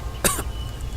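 A single sharp cough, like someone who has just surfaced from the sea gasping for air, brief and close against a low background hum.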